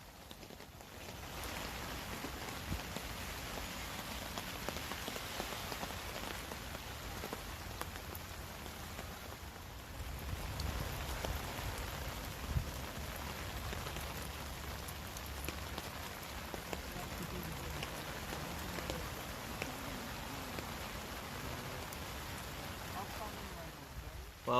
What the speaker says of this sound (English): Well, the rain is coming down, heavy.